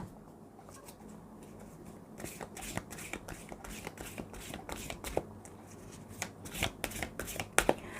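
Tarot cards being shuffled at close range in a steady run of quick papery riffles and slaps that grow sharper toward the end, with faint room tone beneath.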